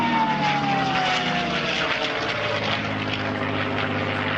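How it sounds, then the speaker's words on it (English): A P-51 Mustang warbird at an airshow drones loudly as its piston engine and propeller pass overhead coming in to land, a sustained roar with a slowly falling pitch. "As P-51 comes into land now, just over the threshold"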